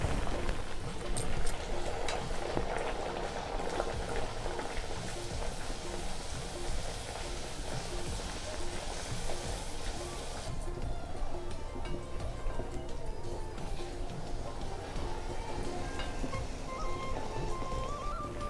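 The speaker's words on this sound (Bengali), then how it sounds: "আবার আমি ভেজে নেব।" Bengali kochuri, radhaballabhi filled with biuli dal, frying in hot oil, a dense steady sizzle and crackle that hisses on without pause, close and even, with no talking.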